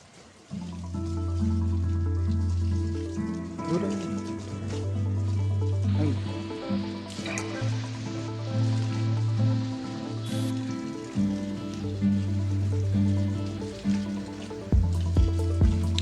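Water poured from a hose or can onto potted plants in a terrace garden, a steady trickling and dripping flow running nearly continuously and fairly close, with a short break near the end.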